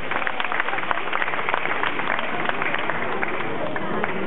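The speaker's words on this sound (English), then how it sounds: "For this lady, a round of applause." A crowd at a public safety demonstration in a convention centre applauds a volunteer, with fast, dense clapping that keeps a steady pace, somewhat muffled and continuous throughout.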